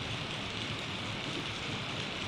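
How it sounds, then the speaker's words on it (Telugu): Heavy monsoon rain pours steadily and densely, a constant broadband hiss with no breaks and no voices. "మాన్సూన్ స్టార్ట్ అయిపోయింది కదా, దంచి కొడుతుంది రెయిన్"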